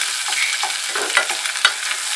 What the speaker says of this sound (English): garlic and ginger, they cook very fast, so you keep on stirring them because they stick on the sufuria as well